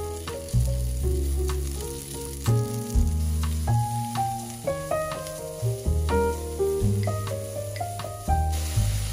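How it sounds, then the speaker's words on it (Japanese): Thin asparagus sautéing in olive oil with grated garlic, salt and pepper, a steady sizzle under loud melodic background music, with occasional stirring clinks. "細めのアスパラガスをオリーブオイルでちょっと炒めていって、塩コショウで味付け、 で、すりにんにくを入れていきます。"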